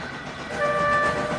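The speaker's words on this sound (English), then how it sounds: "arrived with the goods train" A goods train rumbles past close by, and a steady horn-like tone sounds through the second half of the brief burst.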